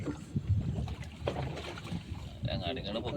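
A fishing boat moves out at sea off Kerala, its hull and the water giving a low rumbling wash with wind buffeting the microphone; someone talks over it.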